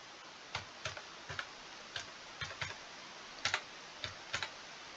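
Light keyboard keystrokes tap out an irregular sequence, some in quick pairs, close and fairly quiet against a faint background hiss.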